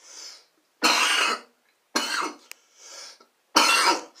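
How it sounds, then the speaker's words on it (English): A man coughs in three harsh, separate bursts with brief pauses between them, close and loud, with a fainter throat sound in between and no talking. "Sorry for the coughing in the video"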